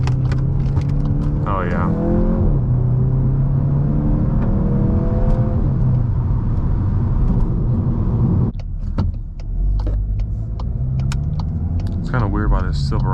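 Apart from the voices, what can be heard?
Volkswagen MK8 GTI accelerating through a corner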